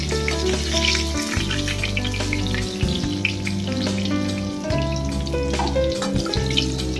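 Pointed gourd (potol) frying in hot oil, a loud, steady sizzle with crackling spatters and occasional stirring scrapes, close up with no voices.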